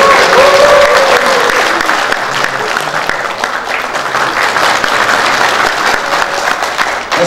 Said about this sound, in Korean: 여러분 큰 박수와 함성 부탁드리겠습니다.